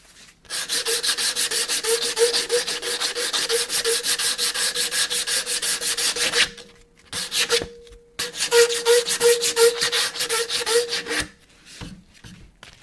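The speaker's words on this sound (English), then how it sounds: "I'm going to sand that." A carved wooden spoon being sanded by hand with 120-grit sandpaper, steady rhythmic rubbing strokes close up and fairly loud, with two brief pauses before a final short burst of scraping.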